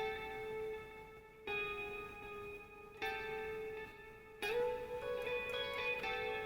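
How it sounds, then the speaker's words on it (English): Ambient outro music rings out in bell-like tones, a new sustained chime entering roughly every one and a half seconds and layering over the last, with a denser cluster of notes near the end. "then we have this kind of outro music come in"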